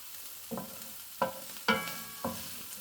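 Bolognese sauce stirred and sizzling in a pan, with four distinct scraping stirs spaced about half a second apart over a soft, steady fry, fairly quiet and close with no talking.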